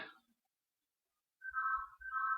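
A phone ringing with an incoming call: a short electronic tone fades at the start, then after a pause two warbling ring bursts sound close and clear with no talk.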